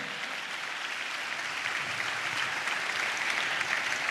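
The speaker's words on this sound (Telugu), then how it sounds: "చప్పట్లు కొడుతూ ప్రభు వారికి స్తోత్రాలు చెప్దాం" A church congregation claps together in praise, a dense sustained round of applause from many hands, steady and moderately loud for the whole span with no talk over it.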